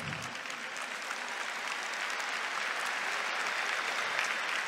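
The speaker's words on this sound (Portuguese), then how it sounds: "Pode bater palmas, sim." Steady applause from a sizable audience, a dense even patter of clapping that continues throughout without voices.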